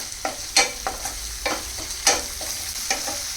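Ground masala paste fries in a pan while a spoon stirs it, a soft sizzle broken by repeated scraping strokes roughly every half second, close and alone without voices.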